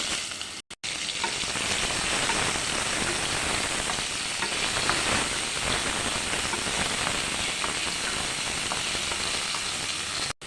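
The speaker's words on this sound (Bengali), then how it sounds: "বড়িটা ভেজে তুলে নিয়েছি, এবার উচ্ছেগুলো একটু ভেজে নেব।" Bitter gourd pieces fry in hot oil in a pan for a vegetarian vegetable dish, giving a steady, loud, close sizzle that runs unbroken throughout with no talking.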